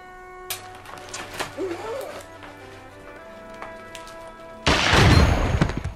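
Gunfire from the film Lock, Stock and Two Smoking Barrels, a volley of over a hundred shots in an apartment, erupts suddenly as a dense, loud burst of rapid shots after a quieter stretch of scattered sounds.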